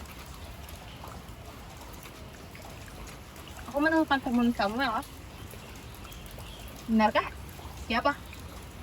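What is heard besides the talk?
rain falling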